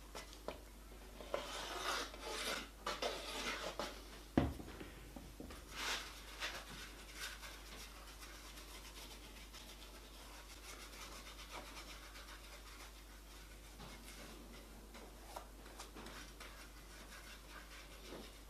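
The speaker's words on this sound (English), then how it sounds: "Rub it in, rub it down flat." Red material rubbed down flat onto a plywood ring-box insert by hand, giving faint, close, scratchy rubbing strokes in an irregular burst early on, then quiet occasional scuffs.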